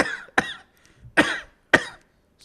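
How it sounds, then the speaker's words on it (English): Three sharp throat-clearing bursts, close and fairly loud, spaced unevenly with short silent gaps between them and no talking. "I had to clear my throat so I could give a moment of respect."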